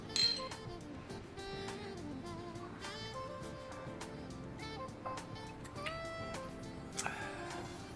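Glasses clinking together in a celebratory toast on New Year's Eve, several bright chinks over a steady bed of background music, with no talk heard.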